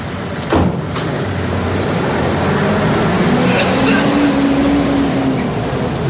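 A car pulls away on a street, its engine note climbing steadily as it drives off, heard fairly close over continuous traffic-like rumble with no talking.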